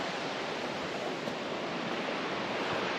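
A river rushes through a deep ravine, producing a steady, dense roar of flowing water that stays constant and close throughout, with no speech.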